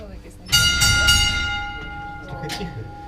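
A signal bell in a deep Polish coal mine rings out with a bright, sustained metallic tone that strikes and then slowly decays, with a second softer strike near the end.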